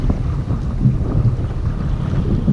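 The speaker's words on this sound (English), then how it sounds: "We got a fair bit of wind now" Wind blowing across open sea during kayak fishing, a steady low buffeting roar of gusts against the microphone with faint water noise beneath, continuous and fairly loud with no talk.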